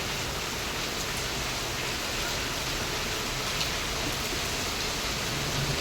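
Heavy rain pours down steadily in Hyderabad, a dense, even hiss of water drumming on surfaces with no voices.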